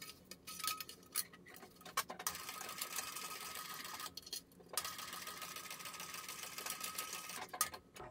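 A sewing machine stitches a bag lining seam in bursts of rapid mechanical ticking and whirring, stopping briefly between runs, quiet and close with no talking.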